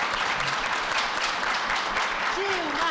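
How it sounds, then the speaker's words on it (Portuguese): An audience at a conversation event gives a sustained round of applause, dense steady clapping filling the room for the whole stretch, with a brief voice sounding faintly through it. "Eu queria uma salva de palmas para ele, por favor."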